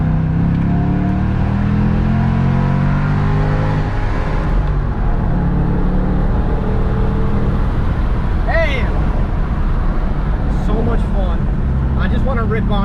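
A 2005-2009 Ford Mustang GT, yellow, heard from inside as its engine drones loudly and steadily while the car drives, dropping gears before a curve, with someone talking over the continuous engine noise.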